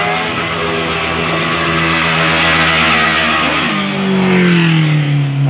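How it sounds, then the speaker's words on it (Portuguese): An out-of-control motorcycle engine revs hard and loud, its pitch climbing and sliding as the throttle swells, then drops to a lower roar before rising again, close by and without talk. "Rapaz, você sai da frente dessa moto! Ele tá sem controle, tá desgovernada"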